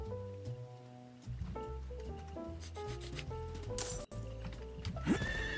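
Horse in the video game Diablo IV neighs and whinnies with clip-clopping hooves, loud and close over a steady layer of game music and effects.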